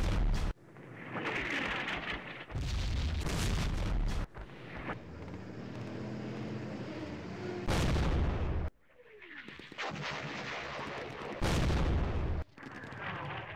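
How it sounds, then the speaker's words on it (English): Artillery barrages in a Middle East war strategy game pound at tanks, loud booming blasts arriving in several heavy bursts with rumbling fire between them. "He's firing at my tanks there. Here comes the barrages."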